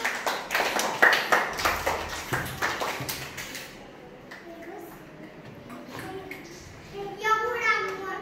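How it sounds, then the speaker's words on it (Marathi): Young children in a first-grade class clap for a classmate, a brisk burst of close, uneven hand claps for a few seconds that dies away into quieter classroom sounds and children's voices. "उत्कर्षासाठी टाळ्या वाजवा."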